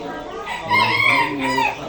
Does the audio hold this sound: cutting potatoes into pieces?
no